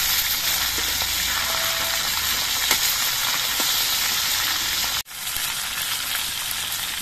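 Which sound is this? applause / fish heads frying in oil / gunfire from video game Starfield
fish heads frying in oil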